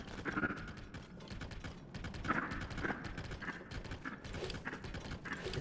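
Horse hooves clip-clopping in the video game Tears of the Kingdom, a steady rhythmic trot over a busy game soundscape with occasional mechanical clicks, moderately loud throughout.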